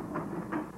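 A train rolls along rails in a short, steady mechanical rumble with two soft swells, fairly even in loudness and heard alone.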